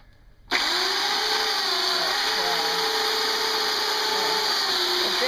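Chainsaw running indoors in a living room on a Christmas tree trunk, starting abruptly and holding a loud, steady high-pitched engine whine close up for several seconds with slight pitch shifts.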